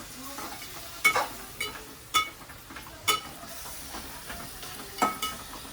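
Vajri, goat tripe, frying in masala in a pan: a steady low sizzle with a spoon scraping and stirring in distinct strokes about once a second, close and alone.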